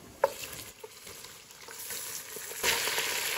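Mutton pieces frying with light golden onions in a pot, a soft continuous sizzle with a few faint clinks and a brief louder burst of frying near the end, no voices.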